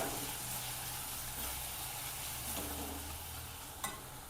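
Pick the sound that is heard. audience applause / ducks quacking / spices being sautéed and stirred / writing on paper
spices being sautéed and stirred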